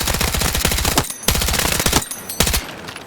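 Sustained bursts of automatic gunfire from a weapon in Battlefield 6, loud and rapid, in three long strings separated by brief pauses, with no talk.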